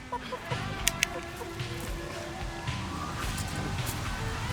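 A chicken clucks in short, scattered bursts under a steady background hum, with a few sharp sounds near the start and a person talking at times.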